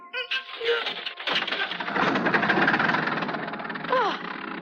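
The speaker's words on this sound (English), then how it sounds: "You got the engine started." An old car engine cranks and catches, then settles into a loud, rattling, uneven chug, with a brief voice at the start and a squeak near the end.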